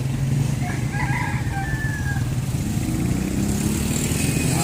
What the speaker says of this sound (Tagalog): Native chicken, no? Oversize.